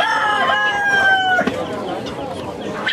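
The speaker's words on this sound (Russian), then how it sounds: "Курица." A chicken at a poultry judging event gives a drawn-out crowing call that ends abruptly, followed by softer clucks and murmuring in the room.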